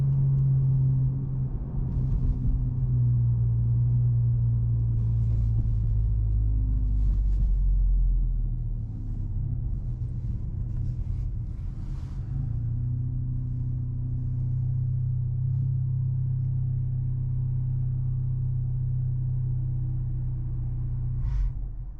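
Stage 3 tuned car engine idling after a start-stop restart, a loud, close, steady low rumble holding level throughout with slight shifts in tone, no talk.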